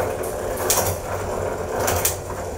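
Tacx Smart Flux home trainer whirring steadily under pedaling, with two sharp mechanical clicks of gear shifts standing out close and loud, no talk.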